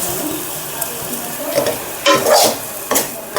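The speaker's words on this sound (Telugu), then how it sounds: "ఉప్పు వేసి కలుపుతున్నానండి." Amaranth leaves and moong dal fry being stirred in a pan with salt, a steady loud sizzle with bursts of scraping and clatter from a spatula, the densest stirring near the end.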